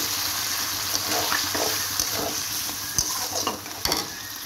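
Water with garam masala powder poured into a hot pan, giving a steady broad sizzle and hiss with a few small pops and clinks, fairly close and even throughout.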